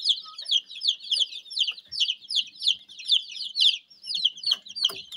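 Many small chicks in a brooder chirping and peeping continuously in high, rapid calls, close by, with faint soft knocks underneath.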